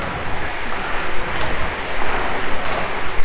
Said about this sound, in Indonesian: stasiun kereta api Rangkas Bitung ini juga menjadi stasiun terakhir pemberhentian kereta api komuter lain